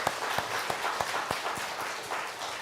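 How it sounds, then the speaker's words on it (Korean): Korean church congregation clapping during Sunday worship after a choir performance, a dense, fairly loud round of applause with distinct hand claps standing out, steady throughout and no talking. "우리 박수하겠습니다."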